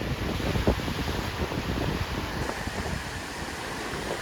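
Atlantic Ocean surf rolling onto the beach at Brigantine, New Jersey, after Hurricane Erin, a steady broadband roar of breaking waves with heavy wind buffeting the microphone throughout.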